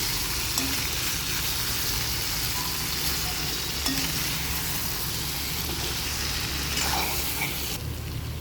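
Ridge gourd and onion curry being stirred in a pan on the stove, giving a loud, steady frying hiss throughout with faint scraping of the spoon against the pan and no speech.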